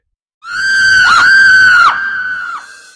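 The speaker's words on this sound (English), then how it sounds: "Aiko screamed." A woman screams as a horror story sound effect: one loud, shrill, sustained shriek lasting about two seconds, wavering in pitch before it fades out.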